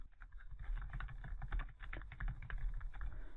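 Keys clatter on a computer keyboard in a steady, quick run of soft close taps, with faint background hiss and no talk.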